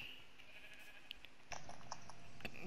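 Faint goat bleats from a distance, a couple of short calls over a quiet outdoor hush.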